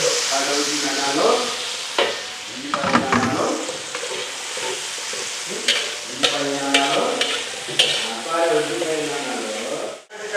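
Ground spices and paste sizzle and hiss in a pan while being stirred, steady frying with repeated scraping strokes close to the microphone, no talking.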